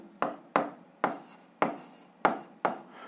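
Six evenly spaced scratchy strokes of a pen or chalk writing out a physics formula, close and moderately loud, each a short rasp followed by a brief pause.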